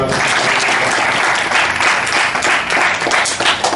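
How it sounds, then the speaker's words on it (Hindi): An audience claps loudly and steadily to welcome a businessman who runs a computer centre in Karnal, along with his wife. The dense, even applause fills the whole stretch with no talk over it. "हम इनका सभी का, उनकी पत्नी का भी स्वागत करते ताली"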